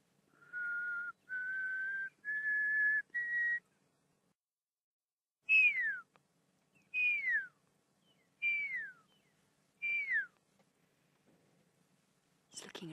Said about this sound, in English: There's others calling somewhere off in the distance. Might actually be drongos.